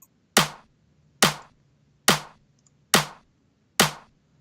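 Five sharp electronic clap hits from a Cymatics clap sample, evenly spaced about a second apart, each with a crisp snappy attack and short decay, alone with no other sound.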